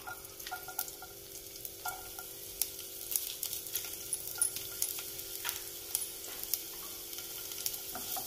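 Garlic sautéing in a spoonful of hot oil for veg manchow soup, a soft, even sizzle punctuated by regular light spatula taps and scrapes against the pan, close and fairly quiet throughout.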